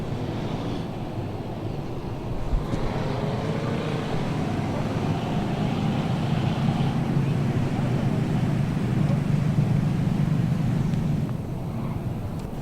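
Mini stock race cars lap a dirt speedway in a 15-lap race, a steady, loud engine roar heard from a distance that holds for the whole stretch with no break.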